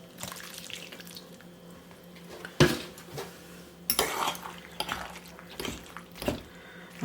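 A dish that held the last of some homemade cream is rinsed out with water at a kitchen sink, with running tap water, splashing, and clinks of dishes in several bursts at close range.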